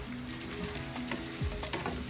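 Dried chili with coriander, cumin and turmeric frying in oil for a fish masala, a steady close sizzle with brief stirring scrapes of a spoon against the pan.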